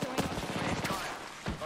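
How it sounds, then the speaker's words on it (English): Video game gunfire from a sci-fi battle royale, a quick rattling burst of shots followed by a few sharper separate blasts, loud and close over a busy game soundscape. "Opening fire"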